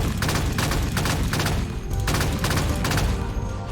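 Rapid gunfire from battle rifles in the Halo Infinite video game, loud, continuous bursts of shots with short gaps, repeating in quick rhythmic volleys throughout.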